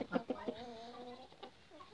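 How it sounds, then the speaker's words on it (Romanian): A Cochin hen dust-bathing in ash gives a few soft clucks followed by a drawn-out, wavering crooning note, close by and quiet, with no talking. "Ia uitați puțin găina de cochinchina."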